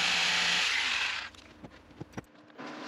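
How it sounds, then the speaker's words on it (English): A jigsaw run back and forth as a makeshift sander along the corner edges of a wooden wedding card box gives a steady, loud, buzzing rasp for about a second, then stops, leaving a few faint knocks and a quieter hum returning at the end. "Now I'm using the jigsaw to run it back and forth, kind of as a little sander to clean up the corner edges"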